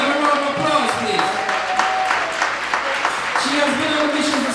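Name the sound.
audience applause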